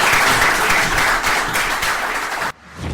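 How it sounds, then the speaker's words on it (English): Dense audience applause at a book launch event for Get The Elephant Out Of The Room, a steady wash of many hands clapping that cuts off sharply near the end, leaving a quieter room. "please give him a round of applause"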